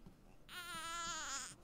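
A woman's crying in the Resident Evil Village horror video game: one sustained, wavering wail lasting about a second, fairly faint against quiet background sound.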